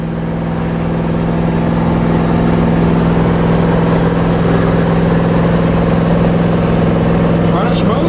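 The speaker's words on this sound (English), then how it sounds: "no rattles, no squeaks, no vibrations. I mean, car's running very well" A 1966 Chevrolet Chevelle engine running steadily, a loud, even mid-pitched drone close by that holds throughout with a faint sharper sound near the end; someone talks over it.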